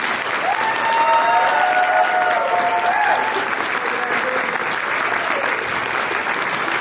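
Audience applause at a WonderCon 2025 panel on Middle Eastern and North African representation in media: steady, dense clapping from a packed room lasting about seven seconds, loud throughout with a slight swell early on.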